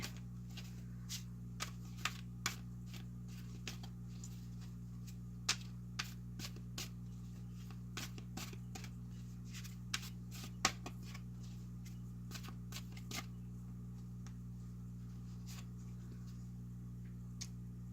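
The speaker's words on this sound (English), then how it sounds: "Just want to give them a good shuffle." Tarot cards being shuffled by hand, giving a long run of soft, irregular flicks and riffles against a steady low hum, with no talking.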